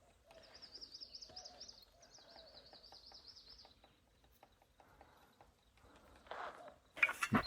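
Birds chirp and trill in bright repeated phrases at moderate distance at Patagonia Lake, with scattered shorter calls and a few rustling knocks near the end.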